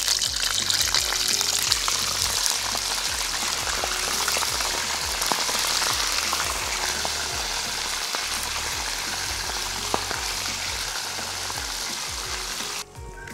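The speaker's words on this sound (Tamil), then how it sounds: "எண்ணெய் கொதிச்சுட்டு நாங்கள் மீனை பொரிப்போம்" Fish frying in hot oil in a home kitchen, a steady, close, dense sizzle and crackle holding evenly throughout with no talk, stopping abruptly just before the end.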